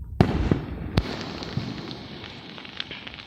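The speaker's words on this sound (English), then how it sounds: "See it? That's the firework." Fireworks burst outdoors in a few sharp, loud bangs early on, followed by a lingering crackle and fizzing tail that fades over a few seconds.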